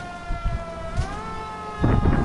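An ambulance siren in the L.A. Noire video game glides through a slow pitch rise, set against bumpy low rumbles and thuds from the vehicle that grow heavier near the end, with no voices.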